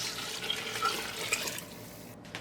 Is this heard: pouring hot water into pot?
yes